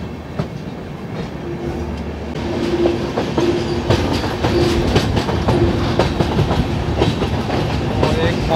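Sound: Tripura Sundari Express train running on rails

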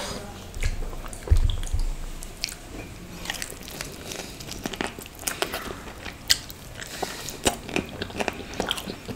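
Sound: chewing grilled non-veg barbecue food, bones

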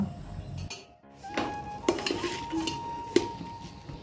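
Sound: pot being stirred on a lowered gas stove

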